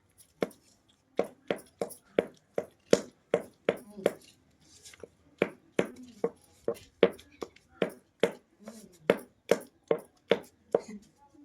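Kitchen knife chopping an onion on a board, steady rhythmic knocks of about twenty close, crisp strikes in quick succession.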